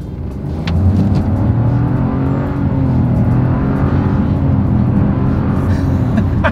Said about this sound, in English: Let's put the acceleration here to the test and let's see how quickly we can get our new 2025 Trailblazer here up to speed.